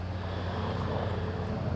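An airplane or helicopter drones overhead as a steady low rumble, continuous and moderately loud throughout, with outdoor background noise.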